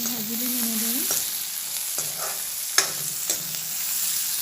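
Onion leaves and turmeric powder sizzle in hot oil in a pan, a constant close crackle punctuated by several distinct clacks of a spatula stirring, with a brief tonal squeak at the start and no voices.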